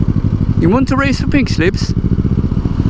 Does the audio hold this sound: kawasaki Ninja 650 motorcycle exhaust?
yes